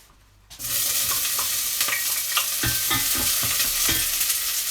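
Chopped onions drop into hot olive oil in a pan and immediately break into a loud, steady sizzle, with a few stirring scrapes and clicks over the frying.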